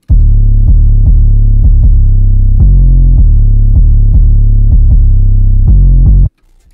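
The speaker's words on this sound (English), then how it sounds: "It's the Always Up 808 by Iconic" Loud, booming 808 bass from the Always Up preset by Iconic hits in a repeating pattern of deep sustained notes with short retriggers, filling the low end for about six seconds before stopping abruptly.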